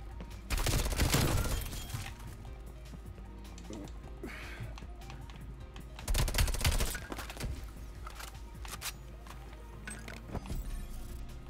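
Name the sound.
gunfire in video game Black Ops Cold War Gunfight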